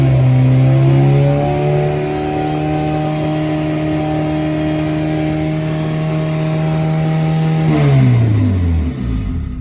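A turbocharged LS-engined car revs loud and close while driving, holding a high steady drone for several seconds before the engine note drops away as the revs fall.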